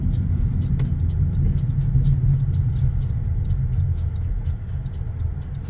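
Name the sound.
car driving during a road test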